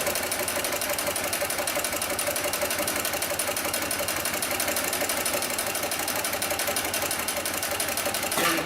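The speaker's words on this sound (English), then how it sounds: "we'll go ahead and sew through 4 layers of this heavy-duty webbing" An industrial sewing machine stitching through four layers of heavy-duty webbing, a steady rapid mechanical chatter with even rhythm, close and continuous without pause.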